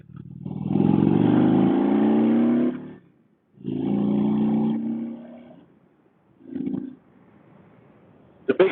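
A 2018 Indian Roadmaster, a big heavy touring motorcycle, rumbles loudly up through two long accelerating pulls separated by quiet pauses, then gives a brief shorter blip of engine sound.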